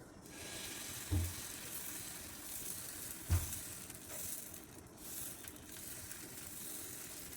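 Sorghum flour dosa batter hits a hot griddle with a steady, close sizzling hiss that runs throughout, marked by a couple of brief clunks, with no talking.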